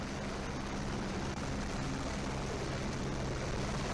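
Helicopter used for an aerial inspection over a disaster site in Chamoli, Uttarakhand, a loud continuous rotor and engine roar, steady throughout and without pauses.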